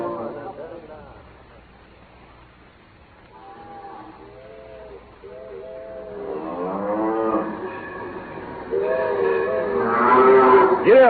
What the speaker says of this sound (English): the Wyoming special can't get through to the station on account of them cattle blocking the right of way